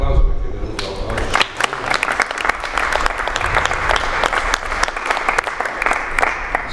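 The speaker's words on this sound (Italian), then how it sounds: "a cui fare un applauso perché è venuto oggi." A crowd at the inauguration of a war museum in Castel di Sangro gives a long round of loud, dense applause, the clapping steady and close, with speech barely audible underneath.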